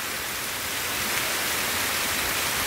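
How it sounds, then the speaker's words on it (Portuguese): Heavy late-afternoon rain pours down steadily over the town of Orós, a dense, even hiss that stays constant throughout with no voices. "Uma grande chuva aqui no Oroz."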